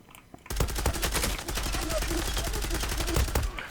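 Rapid automatic gunfire from an M4 rifle in the online shooter Zula, loud and continuous for about three seconds after a brief quiet start, dense overlapping shots with a steady rattling rhythm.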